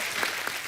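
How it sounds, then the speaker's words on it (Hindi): A studio audience at The Kapil Sharma Show applauds a film promo, giving a short, dense burst of clapping that is steady and fairly loud, with no voices over it. "जोरदार ताली प्रोमो के लिए।"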